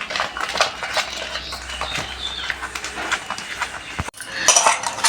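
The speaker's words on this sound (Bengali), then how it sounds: "ময়দাটা ভালোভাবে আমি ফেটে নেব।" A flour and semolina mixture being beaten in a bowl, with a close, quick run of clinking and scraping strokes that pauses briefly before picking up again.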